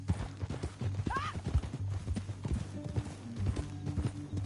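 Horse hooves clip-clop in a PS4 video game, irregular soft thuds under game sounds and a brief whinny, with voices talking over them.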